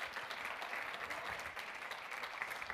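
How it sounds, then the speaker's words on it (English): Audience applauding a volunteer at a corporate talk, a steady wash of claps that is faint and distant, continuing evenly without any voices. "Big round of applause."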